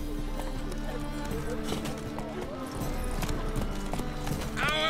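Hooves of Roach, Geralt's horse in The Witcher 3, clip-clop in a steady gallop rhythm under game music and some voice, with a brief whinny near the end.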